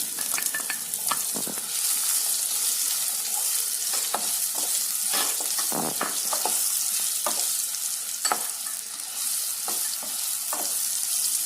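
Curry leaves, red chili powder and raw mango fry in hot oil, giving a loud, continuous close sizzle broken by frequent sharp pops and spatters as the pan is stirred.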